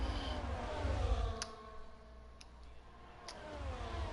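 Racing cars in an Abu Dhabi Grand Prix race in a racing video game, engines droning and passing in a continuous mid-level rumble with a slight swell, plus a few sharp clicks, and no talking over it.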